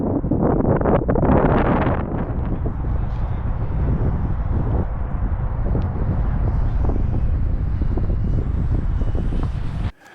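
Heavy wind buffeting a microphone while flying an RC plane, a loud continuous low roar with gusty rustling that cuts off abruptly at the end.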